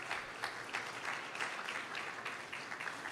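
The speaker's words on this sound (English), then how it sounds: "So I would want to invite you to give the young people another round of applause." Audience applause for young people at a Caribbean population and development forum closing ceremony, a dense, even clapping from a crowd filling the whole moment, moderately distant.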